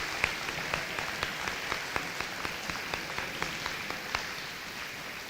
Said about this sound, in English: Can we do a quick round of applause for Ryan and everybody that take care of our